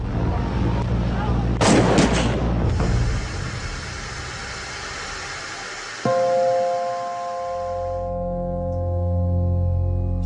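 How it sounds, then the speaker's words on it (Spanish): Sharp gunshots crack in a burst near the start, followed by a low rumbling hum and a steady tonal drone afterward. "Cinco minutos después del primer disparo acababa la matanza."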